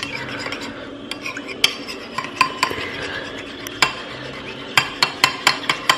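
Egg whites and yolks being stirred briskly in a bowl, a utensil clinking and tapping against the sides in an uneven rhythm of close, sharp knocks.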